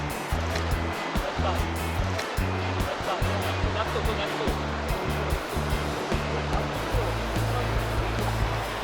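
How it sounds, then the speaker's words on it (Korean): Rushing water from a mountain valley stream flows continuously and fairly close, a steady full-bodied stream with no pauses. "물소리가 계곡 물소리가 시원하게 좋습니다"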